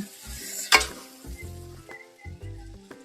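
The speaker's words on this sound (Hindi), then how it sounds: "इसको धीमी आंच में हल्का हल्का इसको मिक्स करेंगे" Chana noodles cooked with Maggi are stirred in a pan over a low flame: a soft sizzle under several distinct scraping and clattering stirring strokes, close by, with no talking.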